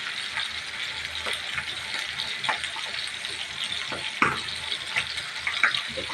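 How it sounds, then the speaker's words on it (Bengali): Fish frying in a pan gives a steady close sizzle and crackle, with occasional clinks and scrapes of stirring or turning, and no talk. "আজকে আমার মাছ ভাজি"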